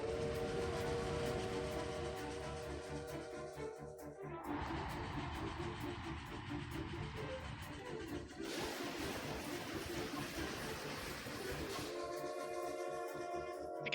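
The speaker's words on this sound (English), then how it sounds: "Is that a train? Chugga, chugga, chugga, chugga." Train sound effects from the Persona 5 Tactica video game, a chugging rail rumble with a harmonic steam-whistle tone, play steadily and fairly loud alongside game music that shifts sections over about fourteen seconds.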